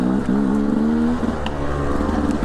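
A dirt motorbike's engine revs hard as its slick rear tire slides on rock, giving a loud, close, wavering drone that rises and dips over a couple of seconds.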